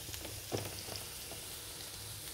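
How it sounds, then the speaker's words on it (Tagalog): Onion added to golden-brown frying garlic in a pan for chicken afritada, a faint, steady sizzle with a small burst of crackle near the start, no voices. "pag golden brown na yung bawang, yan po, ilalagay na po natin yung sibuyas"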